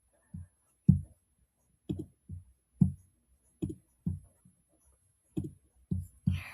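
A computer mouse clicks close by in isolated single and paired clicks spread unevenly over several seconds, with quiet in between.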